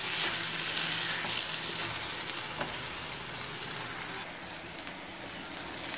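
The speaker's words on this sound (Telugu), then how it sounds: "బాగా వేపుకుందాం" Chopped onions frying in hot oil in a pan and being stirred, a steady, dense sizzle that holds close and fairly loud throughout, with faint scrapes of stirring.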